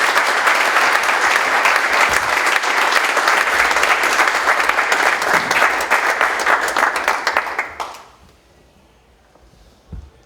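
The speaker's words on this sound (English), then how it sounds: "Let's give him a nice round of applause." Sustained, loud applause from an audience for a congressman at an ambassador's reception, steady dense clapping for about eight seconds, then cutting off abruptly into near silence with a faint thump near the end.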